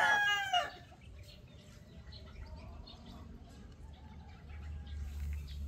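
A Boston Roundhead fighting rooster lets out one short, loud crow at the start, followed by faint, low background noise with no further calls.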